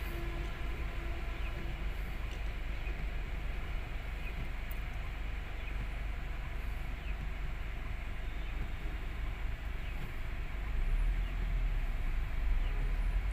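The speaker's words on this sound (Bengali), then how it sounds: "সামনে রেল ক্রসিং, রেল ক্রসিং পড়েছে, ট্রেন পার হচ্ছে" A train passing a railway crossing in Dhaka: a steady, continuous rumble and rolling drone held at moderate distance for the whole stretch, with no clear voices over it.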